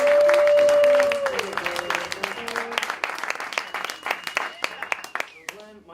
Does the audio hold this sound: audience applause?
yes